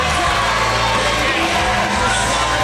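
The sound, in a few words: crowd cheering as boxer makes his way to the ring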